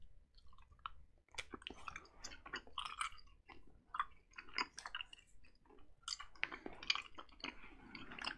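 Close, quiet chewing of soft fruit chews like Starburst, with sticky, squishy mouth sounds repeating irregularly and no talking.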